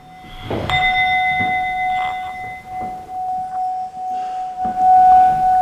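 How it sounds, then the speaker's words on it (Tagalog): A Tibetan bell is struck and rings out with a clear, sustained metallic tone that lingers and fades slowly, with soft shuffling noises around it, in a dormitory in Baguio. "mag-imbestiga si Alex sa first floor gamit ang kaniyang Tibetan bell"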